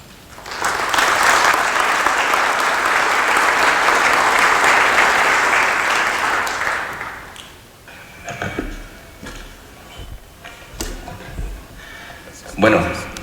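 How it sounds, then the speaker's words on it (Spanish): A conference audience applauds loudly and steadily for about seven seconds to welcome speakers on criminal tax reform, then the clapping fades into quieter room noise with scattered knocks and some voices. "Recibámoslos con un fuerte aplauso."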